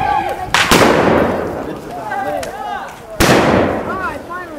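Two loud, sharp booms, about three seconds apart, come from a cannon at a Seminole War reenactment at Fort Foster, with people talking nearby between the blasts.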